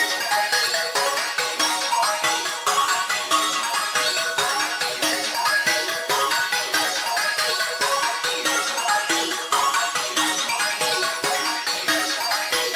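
Layered synth pluck pattern built from the Pluck OK sound of a Heyitsshark kit, a bright, dense run of repeating plucked notes that plays steadily and loudly on its own, with no talking.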